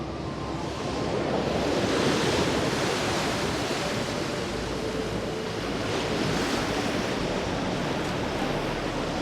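Ocean waves break on the shore in a continuous loud surf roar with some wind, steady and close throughout, with no voices.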